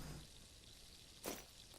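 Liquid is poured in the survival crafting game Blight: one short, soft splashing gush about a second in, faint and brief over a low, steady background hum.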